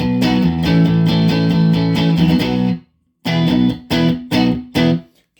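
Electric guitar run through Fender Tone Master Pro amp models, including Twin Reverb, rings out in loud distorted chords, stopping near the three-second mark and coming back as short, separated chopped strums.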